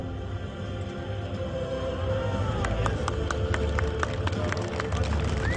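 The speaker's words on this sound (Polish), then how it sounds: "brawa proszę Państwa" Outdoor crowd at a medieval knights' combat tournament: a steady, moderately distant murmur, with rapid claps rising out of it partway through and continuing to the end.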